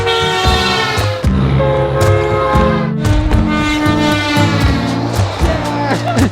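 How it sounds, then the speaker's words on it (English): A passing truck's loud, sustained multi-tone horn blares almost continuously, with pulsing chords and brief breaks, close by on a road. "every time a truck goes by and they honk their horn and it's really loud"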